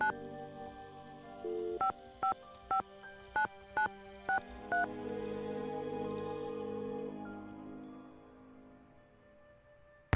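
Telephone keypad tones from the Nancy Drew game Secret of the Scarlet Hand: seven evenly spaced, clear dialing beeps over a soft background hum, then a steady tone that fades away.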